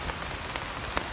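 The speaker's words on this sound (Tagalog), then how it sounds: "Ayan umulan na" Rain falls steadily on a banana plant outdoors, a continuous broadband patter with a few sharper drops standing out near the microphone.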